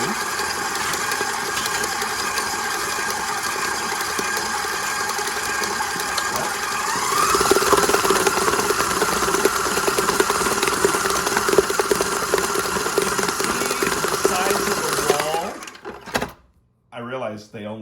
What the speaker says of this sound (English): They only can hear that mixer and not me talking when it's on.